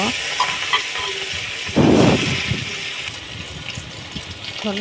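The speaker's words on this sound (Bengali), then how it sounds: "তারপর আরও কয়েকটা পিস আছে, সেগুলোও আমি একইভাবে ভেজে নেব" Rohu fish pieces fry in hot oil with a steady close sizzle, broken by a louder, brief splash-like burst of crackling as more pieces go into the pan, with no talk.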